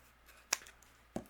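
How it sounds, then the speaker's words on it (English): Scissors trimming around a paper craft piece, with a few quick crisp snips spaced apart, close and fairly quiet. "you just take your scissors."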